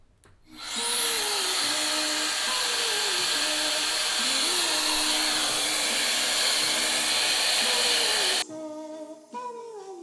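A Shark FlexStyle hair dryer blows on hair, a loud steady close whir that runs for about eight seconds before cutting off, followed by faint handling sounds.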